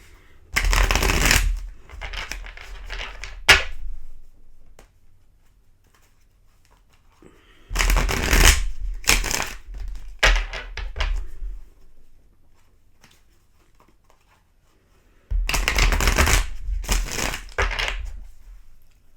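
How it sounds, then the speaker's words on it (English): Tarot cards being shuffled for an Aries reading, in three separate bursts of riffling, slapping card noise, each lasting a few seconds and separated by quiet pauses. "2 more shuffles here"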